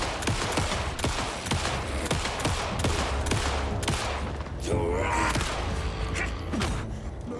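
Pistol shots ring out in Alan Wake II, a rapid run of sharp, loud reports at irregular intervals, followed by a short stretch of creaks and mechanical clatter between the bursts.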